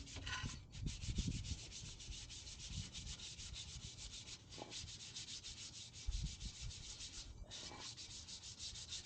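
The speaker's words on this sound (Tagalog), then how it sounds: "Lihain din natin para hindi magaspang din ito pan." Sandpaper rubs steadily over a motorcycle brake drum during cleaning, a continuous close scratchy scraping with rhythmic strokes and a few brief pauses, no talking.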